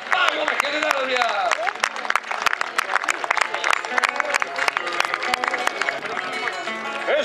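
Crowd clapping for a horse rider at an Argentine rodeo festival in a municipal ground, General Alvear, sharp claps scattered over a busy outdoor bed while an announcer's amplified voice talks over it.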